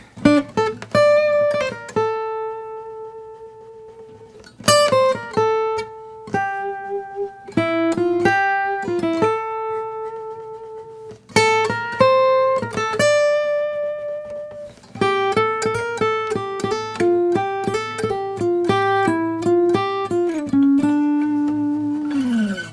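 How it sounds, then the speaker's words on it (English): Electric guitar plays the A section melody of a song, a sustained, singing lead line of held notes and slides over a steady chordal backing, loud and continuous with brief breaks between phrases. "The A section melody sounds like this."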